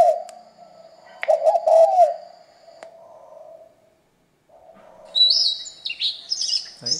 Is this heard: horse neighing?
no